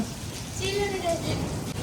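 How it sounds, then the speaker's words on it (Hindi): Heavy storm rain mixed with falling hail pours steadily and densely nearby, a constant wash of noise with a person's voice talking faintly over it. "देख कितनी बिजली चमक रही है और ओले भी आ रहे हैं, तू फिर रहा है बारिश में।"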